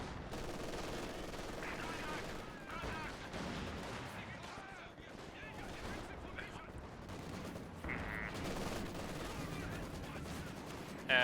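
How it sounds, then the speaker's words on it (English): Gunfire and explosions in a Company of Heroes 2 match, including an anti-tank gun firing into a ruined house, dense layered shots and blasts throughout with a busy game soundscape. "AT-Gun decided to shoot into the ruined house"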